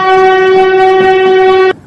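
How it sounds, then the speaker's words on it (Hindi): In an animated story, a train pulling into a station sounds a loud, steady horn blast that holds for nearly two seconds and then cuts off abruptly. "देख ट्रेन आ गई"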